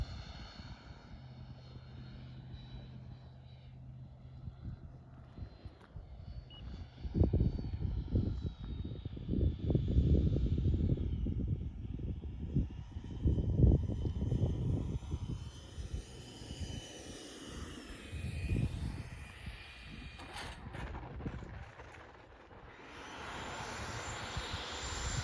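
A Freewing F/A-18C Hornet RC electric jet flies an approach with gear down and half flaps, its whining ducted-fan hum rising and falling as it passes at moderate distance over wind noise.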